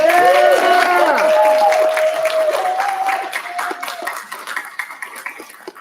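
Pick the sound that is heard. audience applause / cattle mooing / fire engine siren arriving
audience applause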